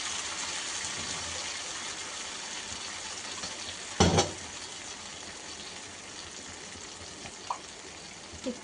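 A ground spice, cashew and paneer paste drops into a hot pan for paneer yakhni and sizzles, a steady frying hiss with one sudden louder splash and sputter partway through.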